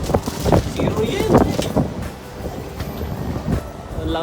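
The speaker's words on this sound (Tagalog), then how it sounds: "Ang lakas ng hangin, nagbuksakan yung mga bike." Strong outdoor wind buffets the microphone in low, gusting rumbles, rising and falling under close, loud talking from people nearby.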